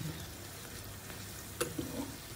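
Gemat (luqaimat) dough frying in a pot of hot oil, a steady low sizzle with a few brief pops and crackles, close and fairly quiet, with no voices.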